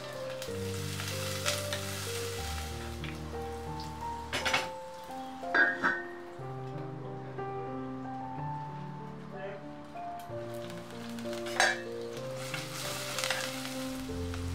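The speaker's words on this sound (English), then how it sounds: "Fry the curry leaves. Then goes in 4 of our shallots that's sliced." Curry leaves and sliced shallots fry in a pan, giving a steady soft sizzle with a few stirring clatters, heard close under a speaking voice and background music.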